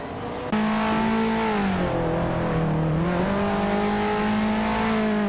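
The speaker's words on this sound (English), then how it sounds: "cruising in a 1965 Shelby Daytona, a classic American muscle car known for its lightweight design and aerodynamic shape" A 1965 Shelby Daytona muscle car engine in a racing video game holds a steady, loud drone, with its pitch dipping and rising slightly as it cruises on. No voices are heard.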